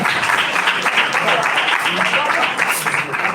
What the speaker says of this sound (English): Please, could we give her a Nigerian round of applause